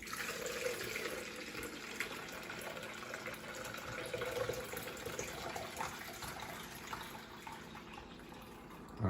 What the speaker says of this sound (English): So I'm just going to pour it from here into here for now.